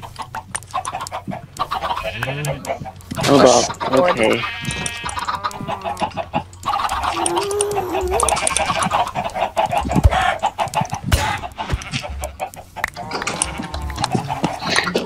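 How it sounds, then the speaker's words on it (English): Chickens in Minecraft cluck and squawk in bursts, close and loud, mixed with sheep bleats while a player hunts them; brief talk cuts in between the animal calls. "I'm just killing chickens."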